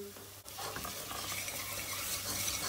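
Dried mint and tomato paste stirred and fried in a pan for tarhana soup, a steady close sizzle with a spoon scraping and stirring, after a brief quieter start, no talking.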